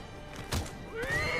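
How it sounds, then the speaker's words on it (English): A horse in the samurai action game Nioh whinnies once, a short rising neigh with a brief thump of hooves before it, fairly faint and with no talk over it. "will we be riding a horse?"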